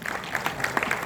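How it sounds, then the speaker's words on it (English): A brief burst of scattered applause at a film festival talk, claps rising and falling unevenly. "So please, a round of applause to Amish Tripathi."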